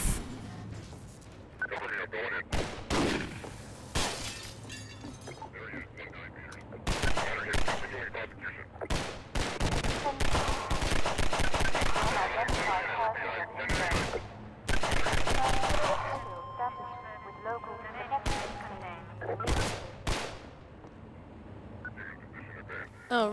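Repeated gunfire bursts and single shots in the video game Half-Life 2, loud and rapid, firing in clusters amid other game effects and occasional player speech.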